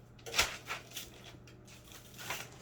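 Scissors snip through adhesive sublimation paper in a few short, crisp, quiet cuts with pauses between them.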